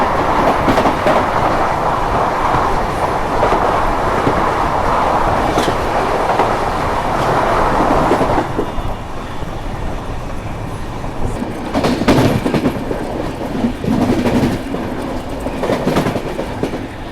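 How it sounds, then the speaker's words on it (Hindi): The Katihar–Mumbai Central Special rumbles past on the Meghnagar route in a loud, sustained roar of wheels and rolling stock, easing into rhythmic clattering with sharper clanks toward the end; no talking is heard. "और सामने से कटिहार मुंबई सेंट्रल स्पेशल आ रही है।"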